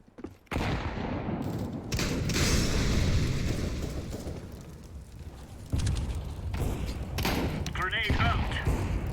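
Grenade, incendiary and flashbang blasts in a tactical shooter game with terrorists, a dense run of loud booms and gunfire-like bursts rumbling for several seconds, with game voice callouts heard under the noise.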